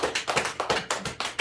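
Congregation at a church worship service clapping hands in a firm, regular rhythm, about eight sharp claps in quick succession, close and prominent with no talk over them.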